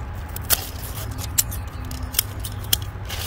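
Scissors snipping green beans off the plant during a garden harvest, four sharp close clicks spaced about a second apart over quiet outdoor background.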